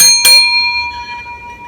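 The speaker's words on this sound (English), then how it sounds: "Get a really nice quality shop bell, a hotel bell, shop bell, whatever you want to call it." A heavy, good-quality brass shop or hotel counter bell is struck once, giving a bright, loud ring whose clear metallic tone lingers and slowly fades.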